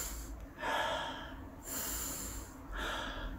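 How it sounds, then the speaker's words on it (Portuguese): Normal human breathing, close to the mic, with three breathy exhalations as air leaves the lungs, each lasting about a second and separated by short quiet gaps. "a respiração normal"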